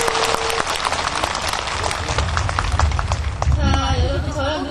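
An audience at a Korean literacy-education event claps in a dense, sustained burst of applause that fades toward the end, while some voices and noise rise underneath.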